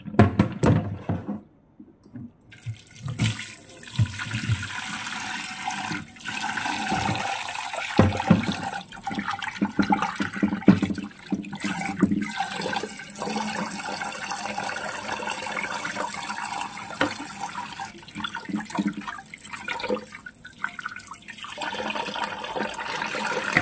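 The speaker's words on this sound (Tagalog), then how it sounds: "Then you need to wash the meat." A kitchen faucet runs in a loud, steady rush as raw meat is washed for soup, starting after a brief quiet moment. Water splashes and gurgles continuously, with small shifts as the meat is handled.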